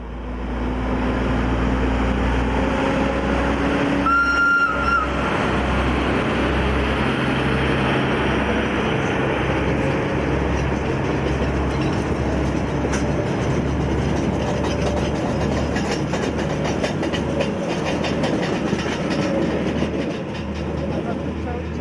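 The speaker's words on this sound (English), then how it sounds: "Also in use that day was HGM 44 diesel locomotive number 61, dating from 1968, and powered by a 708 kilowatt engine" HGM 44 diesel locomotive number 61, built 1968 with a 708 kilowatt engine, rumbles loud and close with a steady low drone throughout, with a brief high tone near the start and some faint voices mixed in.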